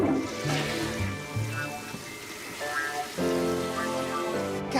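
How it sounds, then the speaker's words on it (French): A toilet flushes with a rushing, gurgling surge of water that dips briefly and then swells again, close and fairly loud, with no one talking. "Pour la chasse d'eau."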